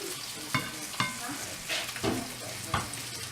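Food fries quietly in a pan just after being flipped, with a soft sizzle broken by a few sharp clatters and scrapes from a utensil.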